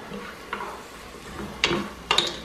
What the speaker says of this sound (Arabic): صافي هنا البصله بدات كتشحر شويه.